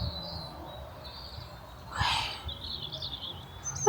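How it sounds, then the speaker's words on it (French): Songbirds in the countryside give thin, high chirps and short warbles, moderately distant, over a quiet background, with a soft breath or rustle near the middle. "entendre les oiseaux chanter comme ça"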